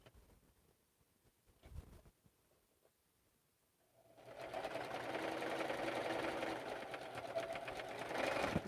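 A sewing machine starts up partway through and runs steadily, a fast close whirring chatter of stitching after a quiet stretch with faint room sounds.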